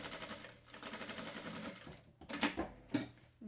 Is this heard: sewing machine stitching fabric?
yes